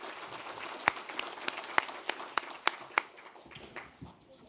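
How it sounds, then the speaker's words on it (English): Scattered audience applause for a speaker at a WWII memorial dinner in Hong Kong, a modest number of individual claps ringing out sharply, then thinning and fading away. "Ladies and gentlemen, a round of applause to Professor Mitter."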